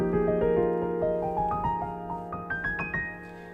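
A piano plays an arpeggio pattern with left-hand triplets under right-hand sixteenth notes, the notes climbing steadily in pitch over a sustained low bass, clear and close with no talking.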